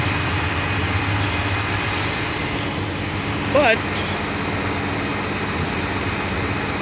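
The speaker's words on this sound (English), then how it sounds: "That other bus that was here, the motor running, finally pulled out." A bus engine idles steadily nearby, a low continuous rumble throughout, briefly under a short spoken word.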